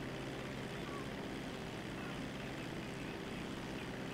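A video game airplane engine drones in a continuous, steady roar that fills the whole stretch without letup, loud and close.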